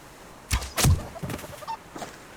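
A chicken in the survival video game Subsistence gives a few brief, clucking calls, two louder bursts close together followed by fainter squawks, with no talking.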